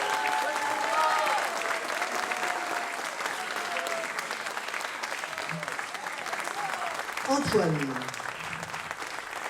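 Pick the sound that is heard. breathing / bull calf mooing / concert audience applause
concert audience applause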